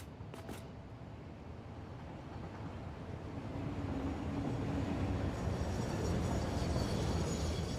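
A freight train pulls into a station in the factory-building game Satisfactory, a low continuous rumble of rolling wagons that grows steadily louder and nearer, with a couple of brief clanks near the start and no talking.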